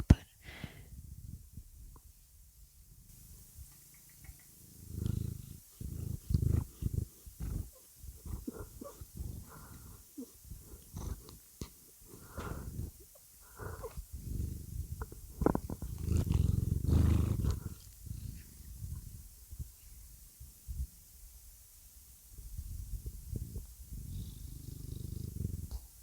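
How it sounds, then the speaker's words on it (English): A cat purring close up, soft rhythmic rumbling pulses that swell and fade over a quiet background, with faint breathy sounds and a little whispered talk. "I'll see if I can catch some of his purring"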